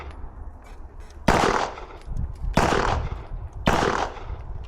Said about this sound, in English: I'm shooting my 1 round, I'm letting that gun recoil